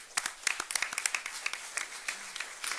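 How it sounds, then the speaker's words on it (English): An audience at a wine committee hearing applauds the panelists, brisk scattered clapping that stays moderately loud for a few seconds. "Let's give them a round of applause."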